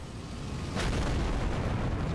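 A fire spell bursts in the Elden Ring video game, a sudden broad explosive whoosh followed by a sustained rumbling roar that carries on at steady loudness.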